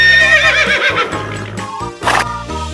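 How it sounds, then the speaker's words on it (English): A horse neighs loudly with a long, quavering whinny close up, then gives a shorter snort-like burst, set against low background music. "Horse."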